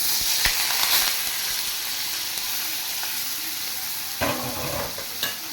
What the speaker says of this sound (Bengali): এবার আমি মাছগুলো ছেড়ে দেবো এখানে।